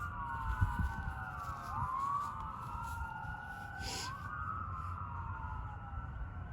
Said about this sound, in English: I hear sirens everywhere.